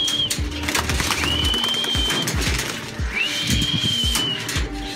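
Pigeons give soft repeated coos amid scattered knocks and shuffling, along with two drawn-out whistle-like tones. A flock is kept in a loft and flown.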